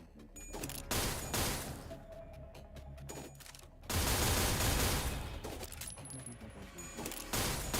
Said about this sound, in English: There's so many shots going up.